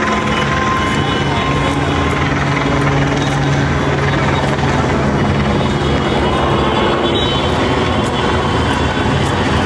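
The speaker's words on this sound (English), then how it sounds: "Helicopters are following everybody" A police helicopter drones steadily overhead on a Los Angeles street, its rotor hum continuous and loud beneath a busy street din, with faint voices in the background.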